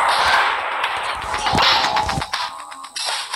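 Rapid bursts of turret gunfire in the mech combat game SuperMechs, a cluster of sharp cracking shots landing close and loud over about three seconds with a dense, clattering metallic edge.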